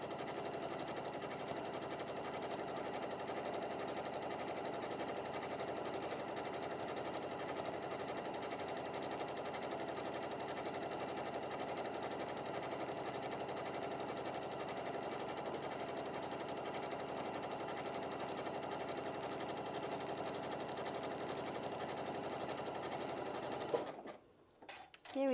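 A sewing machine runs in one steady, continuous whir while stitching a decorative wave stitch across a one-yard fabric apron, then stops abruptly near the end.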